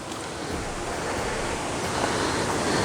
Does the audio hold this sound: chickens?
no